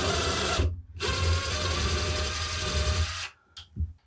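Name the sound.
drilling a pilot hole with a 1/8 inch drill bit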